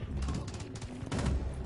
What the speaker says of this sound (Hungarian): Már korán reggel lőnek az emberre.